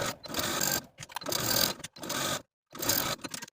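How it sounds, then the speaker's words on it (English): A sewing machine stitches a jumpsuit neckline with a 1/4 inch seam allowance, running in three close, steady bursts of whirring stitches separated by brief pauses. "we're going to sew this neckline with a 1/4 inch seam allowance"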